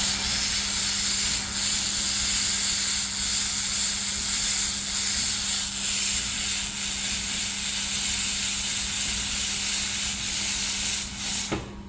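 A 2 kW handheld laser welding machine works on metal, giving off a steady loud hiss with a constant low hum beneath it that fades slightly at the end.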